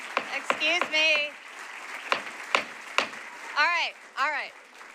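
A few sharp, scattered claps from an audience at a planning commission meeting ring out between raised voices and murmuring in the room.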